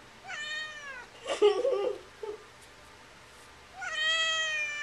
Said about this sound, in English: What sound does a kitty make? Meow, meow, meow